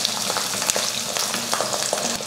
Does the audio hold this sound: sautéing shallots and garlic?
yes